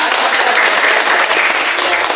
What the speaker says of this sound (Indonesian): Tepuk tangan buat Anda.